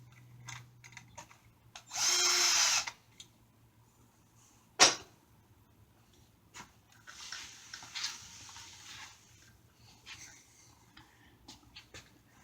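A power drill whirs in one short burst lasting about a second while hinges are fitted to the frame of a cylinder screen press. A sharp knock and scattered handling clatter follow in a quiet room.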